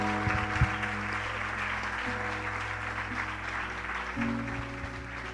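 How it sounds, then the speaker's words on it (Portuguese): A church congregation claps together in praise, a moderate steady applause under sustained organ or keyboard chords and a low hum. "Vamos aplaudir ao Senhor"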